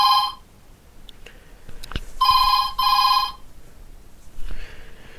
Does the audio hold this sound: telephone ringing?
yes